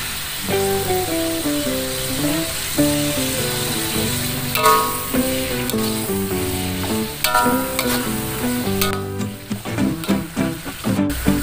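Jengkol stir-fried in a pan with sweet soy sauce, Betawi style, gives a continuous sizzle with scraping stirs, set against steady background music.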